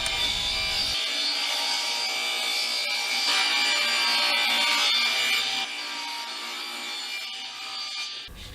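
A power saw cuts small wooden parts for a children's toy bank to a height of 4 inches, giving a loud, steady whining cut that changes slightly in tone partway through before stopping near the end.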